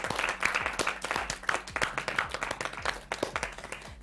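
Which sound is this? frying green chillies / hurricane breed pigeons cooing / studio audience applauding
studio audience applauding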